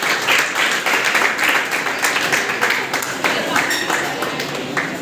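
Enthusiastic audience applause at a JCI Shahganj City summer camp as the chief guest takes the stage, dense clapping with rhythmic surges, while a voice keeps talking over it.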